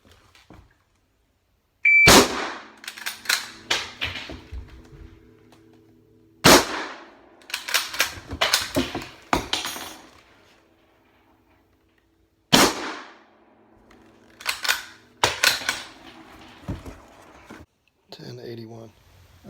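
A 6.5mm Carcano rifle fires at a target about 15 feet away, three sharp loud cracks spaced several seconds apart, each followed by clattering bolt-action handling noises and faint beeps.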